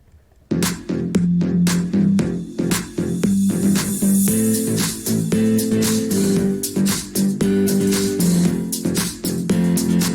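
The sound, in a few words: electronic music low energy drop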